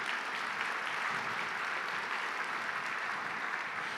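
A church congregation at a Sunday service applauds together in a steady, even wash of clapping that holds at full level from start to finish, with no speech over it.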